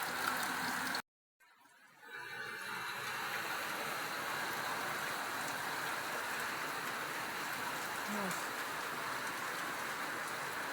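Steady, dense hiss of heavy rain pouring down, continuous after a brief silent gap near the start.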